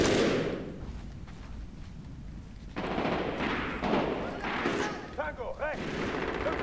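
Rapid gunfire and booming artillery-like blasts from the Medal of Honor: Warfighter video game, loud and continuous with bursts of shots, layered with in-game radio chatter and a player talking over it.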